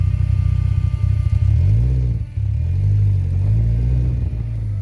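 Inside a Locost 7 kit car, the engine drones low and rough as the clutch comes up, bogging down with uneven surges and a brief stumble midway, loud and close with no speech.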